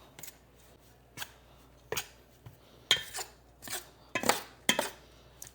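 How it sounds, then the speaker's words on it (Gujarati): Spoon scraping and clinking in a bowl while red chili powder and salt masala are stirred together, in short irregular bursts of scratchy metal-on-bowl strokes, close up with no talking. "બધું મસ્ત મિક્સ કરી દેવાનું."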